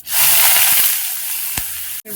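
Mustard seeds spluttering in hot oil, a steady loud hiss and sizzle with a few sharp pops, then a brief cut near the end before the frying noise resumes.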